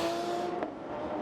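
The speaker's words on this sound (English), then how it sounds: "So cars just finishing their warming down lap." Porsche Carrera Cup race cars on a warm-down lap at Sebring give a distant engine drone with a steady tonal whine, fairly faint and even, with a brief swell as one passes.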